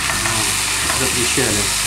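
Seafood for spaghetti vongole sizzles loudly in heated oil in a pan, a dense constant crackle under brief speech.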